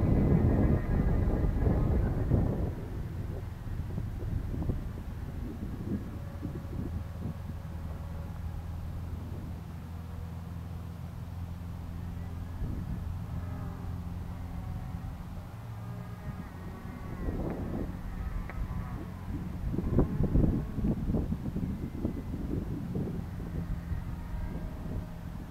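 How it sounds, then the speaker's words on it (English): Steady outdoor wind buffets the microphone while an XK X520 or Mirarobot M600 RC model plane is flown, a continuous low roar with gusts near the start and around twenty seconds, and no voices. "And the wind to die down."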